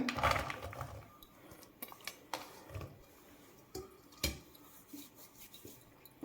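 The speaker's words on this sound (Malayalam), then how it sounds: "ഒരു കടായി എടുത്തിട്ടുണ്ട് ഇതിലേക്ക് വെള്ളരിക്ക ഇട്ട് കൊടുക്കുവാണ്" Cucumber pieces tumble into a kadai with a few clattering knocks and clinks of metal, then lighter scattered taps and scrapes, quiet and close with no voices.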